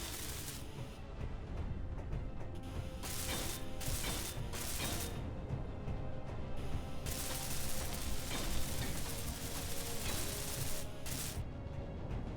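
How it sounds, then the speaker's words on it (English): Video game welding in Ares at War, with a dense, harsh crackling hiss that holds for many seconds and cuts out and resumes in bursts, loud and continuous against clanking mechanical noise. "let me just weld it up"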